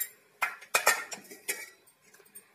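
A knife tapping and clinking against a metal pan of steamed dhokla, a few sharp, close metallic clinks with short scraping touches in between and quieter taps trailing off.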